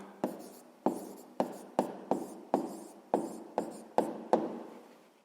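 A pen writes an answer on paper during a sixth-grade maths exercise: about ten short, crisp scratching strokes, evenly spaced and close, with no talking.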